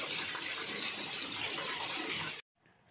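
Heavy rain pouring down in a steady dense hiss, loud and close, then cutting off abruptly into near silence.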